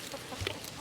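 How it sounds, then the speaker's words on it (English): Chickens clucking in an outdoor farm pen that is moved daily to fresh ground, a short burst of quiet, close clucks over soft background noise. "And the chickens are happy, they have fresh food."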